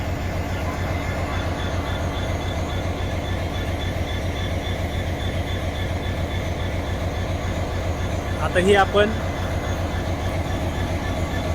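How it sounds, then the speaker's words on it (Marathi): Low, steady rumble of a high-speed test train at Beed railway station platform, idling or moving slowly, with a brief metallic squeal near the end and a voice speaking briefly. "हाय स्पीड टेस्टिंगसाठी बीडच्या रेल्वे स्टेशनवर आलेली हे आपण रेल्वे पाहतोय"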